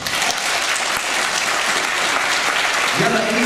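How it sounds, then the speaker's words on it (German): An audience applauds for a German singer at a fan event in Tangerhütte, a steady, full round of clapping lasting a few seconds, with a hint of a voice or tone emerging near the end. "ich denke, es ist dein Applaus"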